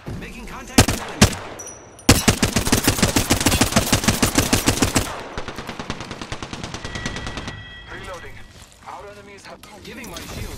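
Rapid automatic gunfire in the battle royale shooter Apex Legends: a couple of single shots, then a long, loud, fast burst that slows into scattered shots and fades, with some voice underneath.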